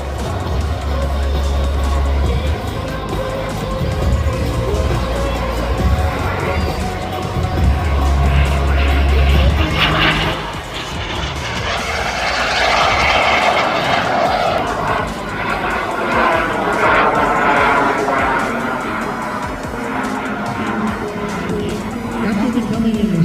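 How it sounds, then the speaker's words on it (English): A mini jet aircraft making a high-speed display pass at the Truckee Tahoe air show, a loud roaring whoosh rising and falling with Doppler sweep, heard under an announcer's voice. "The aircraft picked up an incredible amount of speed because of its very clean and simple design."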